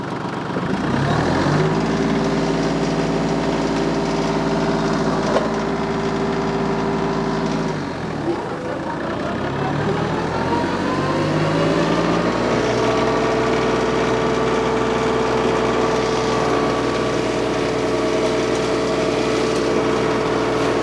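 TYM 2515 compact tractor driving an MP348 forestry mulcher, a loud close steady engine drone with a whining rotor tone that dips around mid-run as the load bogs it down, then spools back up and holds, with no talking.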